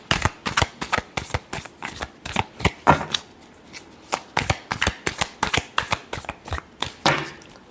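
A deck of tarot cards is shuffled by hand in a fast, steady run of crisp riffling flicks that continues for several seconds, close and clear with no talking.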